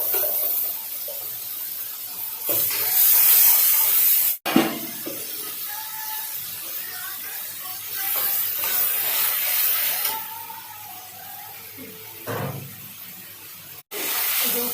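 Onion, tomato and ginger paste hitting a hot kadhai, a loud broad hiss that flares and fades in waves, close up with a couple of sharp clicks.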